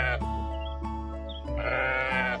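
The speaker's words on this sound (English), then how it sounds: "Look at those sheep. They are on the track" A sheep bleats several times up close on a railway track, in loud, wavering cries with clear harmonics, each one separated by short pauses.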